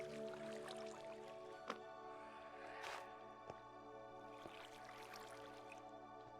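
Water flowing and dripping in a Minecraft build, a constant watery rush with a few sharp separate drips standing out at intervals, fairly quiet overall.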